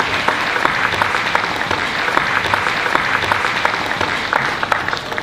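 A thunderous round of applause from a conference audience at a Business Africa event in Paris, dense and sustained clapping that fills the room, loud and continuous without talk.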